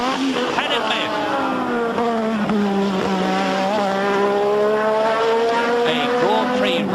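A Formula One race car screams around the track during qualifying for the 1986 British Grand Prix, its high engine whine rising and falling through gear changes while a commentator talks over it.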